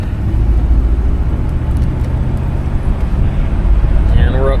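A 1966 Cadillac DeVille convertible drives with the top down, its engine a steady low rumble that swells slightly as the throttle opens, with wind and road noise throughout and someone speaking briefly near the end.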